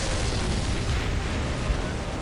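Gunfire and explosions from a 3v3 Orks battle in the Dawn of War Soulstorm strategy game, a dense, continuous roar of blasts and shots with no pauses, loud and full throughout.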